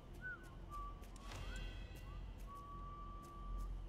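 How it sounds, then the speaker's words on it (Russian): Someone whistles a sliding tune of long held notes and upward swoops in the video game Crime Boss: Rockay City, moderately clear over a low rumbling background with faint clicks. "Кто свистит?"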